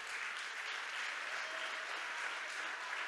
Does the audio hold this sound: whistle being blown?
no